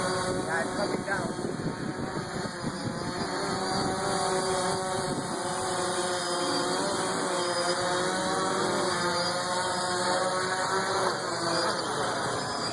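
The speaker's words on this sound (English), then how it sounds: "Right there, auto landing procedure, automatic, no assistance needed. DJI Phantom at Extreme Hobbies Miami." DJI Phantom quadcopter auto-landing in high wind, a steady close buzzing whine of rotors mixed with heavy wind rumble, continuous throughout with talk faintly underneath.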